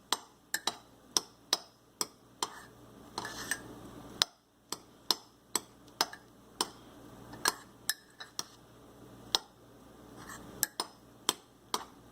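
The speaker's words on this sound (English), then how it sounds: "Now we'll mix it nicely." A spoon tapping and scraping against a mug while fried rice and noodles are mixed in it: sharp, close clinks at an irregular, steady pace over a quiet background.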